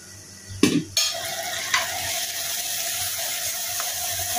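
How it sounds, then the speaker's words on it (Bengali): Spice paste fries and gets stirred in a pan for a fish dish, with a couple of loud clattering scrapes early on, then a steady close sizzle. "এখন মশলাটা ভালো করে কষাই নিচ্ছি।"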